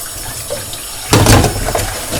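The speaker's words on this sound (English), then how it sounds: "So we'll rinse it all off." Tap water gushes suddenly over a non-stick saucepan being rinsed after washing with Fairy washing-up liquid, a loud, steady splashing rush at a kitchen sink that starts abruptly and keeps running.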